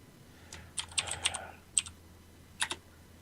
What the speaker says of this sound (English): it actually sounds like a typewriter